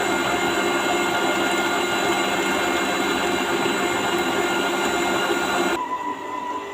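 Electric stand mixer beating butter and eggs for petit four dough, a steady loud whir that runs unbroken for several seconds before suddenly dropping off near the end.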